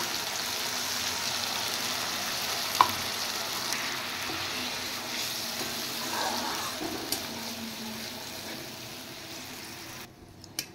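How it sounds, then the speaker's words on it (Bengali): Dhoka curry sizzles and fries in a pan as water is added, a steady soft hiss of frying with a few light clicks and stirring sounds, fairly quiet and without speech. "এবার জল দিয়ে দেব।"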